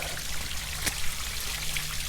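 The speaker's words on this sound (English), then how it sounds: "Almost like a little flowing tap right there." A small natural stream in a wooded backpacking area trickles and flows steadily like a running tap, a close, continuous watery babble with a faint low hum underneath.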